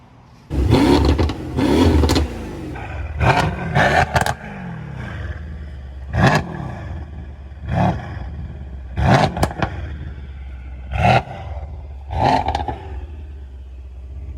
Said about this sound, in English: Can't wait to hear the sound of the car with this on it.